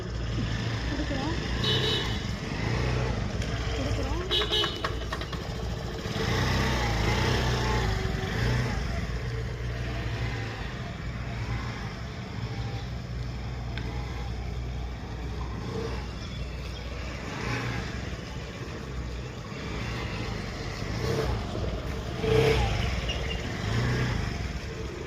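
A motorcycle engine started, throttled down and stalling, a close idling rumble with uneven revs that fades, under someone speaking Tamil throughout.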